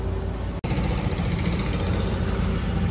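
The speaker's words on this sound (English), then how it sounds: "so sorry for the construction noise." Construction noise outside an apartment: a loud, continuous rough mechanical rumble like a jackhammer or engine, with a brief dropout near the start, then steady dense clatter.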